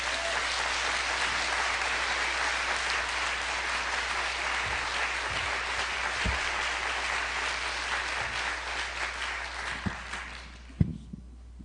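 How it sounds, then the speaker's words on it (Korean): A church congregation applauds to welcome a pastor, steady sustained clapping from a large crowd that tapers off near the end with a few louder claps. "우리 목사님 나오실 때 큰 박수로 모시겠습니다."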